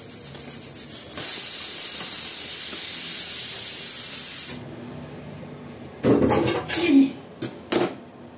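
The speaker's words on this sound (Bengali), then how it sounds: "প্রেসার কুকারে হচ্ছে আলুর দম বানাবো।" A steady, loud hiss of steam from a pressure cooker cooking potatoes for aloo dum runs for a few seconds and then stops abruptly, followed by clanks of pots and utensils.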